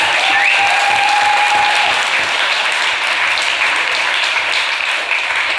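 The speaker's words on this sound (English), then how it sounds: "That's an easy round of applause" A lecture-hall audience at a talk by shepherd and author James Rebanks breaks into sustained applause, dense and loud throughout, with a brief whistle-like tone near the start and no talking.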